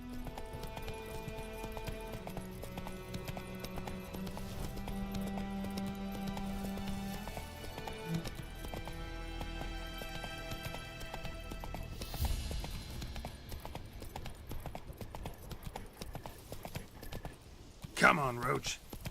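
Roach the horse gallops in The Witcher 3 with steady rapid hoofbeats under game music, fairly faint, with a brief louder snort or whinny near the end.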